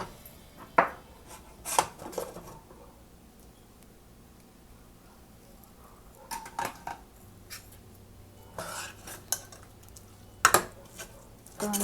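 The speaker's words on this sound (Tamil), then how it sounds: "நம்ம குக்கரை ஓப்பன் பண்ணி பார்க்கலாம்." A pressure cooker of cooked dal is opened after its pressure has dropped. A few scattered metallic clunks and clicks come from the lid and pot, close by in a quiet kitchen, with long quiet gaps between them.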